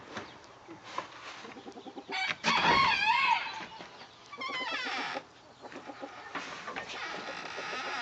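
Small bantam chickens in a coop cluck and chatter close by, with one louder crowing or squawking call rising partway through over steady background clucking.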